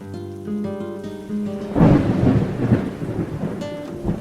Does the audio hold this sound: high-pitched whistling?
no